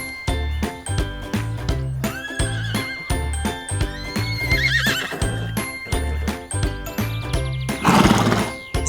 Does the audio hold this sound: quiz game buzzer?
no